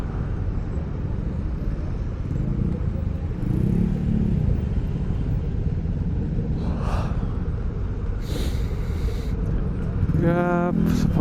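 Congested traffic at Parung market: a steady, close rumble of idling and creeping cars and motorbikes, with a short horn blast near the end.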